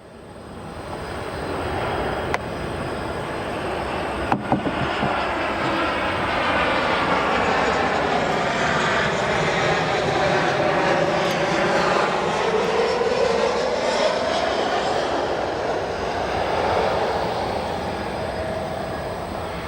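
A Boeing 737 MAX 8 airliner arriving at O'Hare airport makes a loud, sustained jet engine roar that swells and falls slowly as it passes, with a long, shifting whine and no talking.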